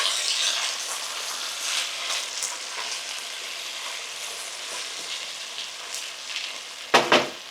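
Food frying in plenty of oil in a pan, a steady loud sizzle throughout with stirring scrapes, ending in a couple of sharp clatters from the utensil against the pan.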